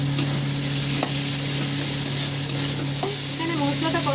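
Masala and tomato fry and sizzle steadily in a pan during a chicken dish's preparation, with a spatula scraping and stirring in occasional sharp clacks over the constant hiss.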